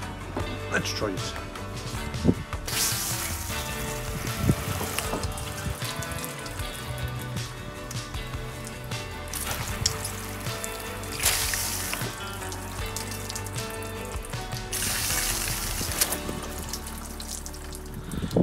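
Water splashes and runs off a motorcycle windscreen that is half treated with a cleaning product, a loose trickling and spattering close by, heard in bursts while someone talks over it.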